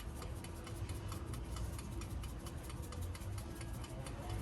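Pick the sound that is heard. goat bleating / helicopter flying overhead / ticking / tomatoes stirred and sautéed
ticking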